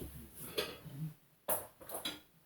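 A chicken tikka banquet microwave meal container from Sainsbury's is handled as it comes out of a microwave: a few sharp plastic clatters and knocks in an irregular run, close and fairly quiet, with no talking.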